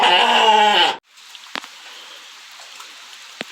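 A ram on a sheep farm lets out one loud, wavering bleat close by, followed by quiet outdoor ambience with a couple of sharp clicks.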